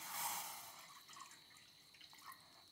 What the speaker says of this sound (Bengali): প্রথমে একটু জল দিয়ে দিচ্ছি।